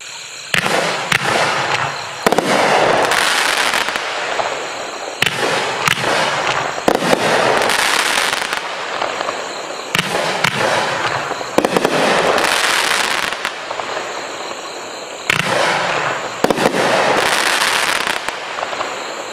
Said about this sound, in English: This one, 36 shots of crackling willow fan cake.